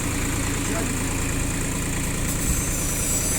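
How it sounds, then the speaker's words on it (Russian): A Japanese Star MR2000 hay baler runs with a steady, loud mechanical drone and low vibration that stays constant and close throughout, with no pauses. "Будем включать сейчас пресс Star MR2000."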